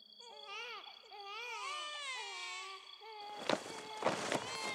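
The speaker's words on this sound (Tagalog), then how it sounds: "Yung sinasabi mong iyak ng mga sanggol, naririnig ko na rin sila." Eerie infant wails rise and fall in long, warbling cries as a horror story sound effect, then give way to a few dull thumps like footsteps under fading sobs.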